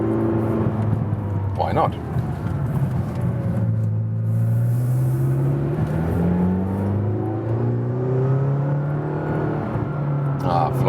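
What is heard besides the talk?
McLaren GT supercar driving up a hill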